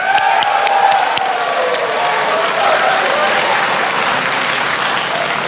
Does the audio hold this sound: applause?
yes